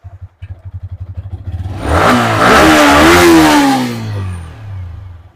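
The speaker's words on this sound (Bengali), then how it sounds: "গাড়ির ইঞ্জিন জবরদস্ত" A used 2021 motorcycle with about 15,000 km on it starts from a steady idle and revs up hard for a few seconds, then settles back down to idle. The engine is close and loud, and no one speaks.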